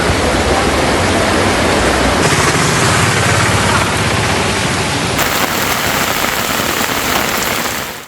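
Heavy rain pours down in Hyderabad during a night storm that flooded streets, a loud, dense, unbroken roar of downpour with no voices.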